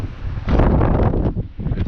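Strong coastal wind at Boat Harbour, Tasmania roars against the microphone in heavy low gusts, quieter at first, then surging loudly and briefly dipping before building again.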